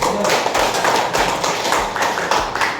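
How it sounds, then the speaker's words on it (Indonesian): A classroom of people claps hands together in a quick, steady rhythm of sharp close taps, continuing throughout with voices mixed in. "Tepuk tangan dulu."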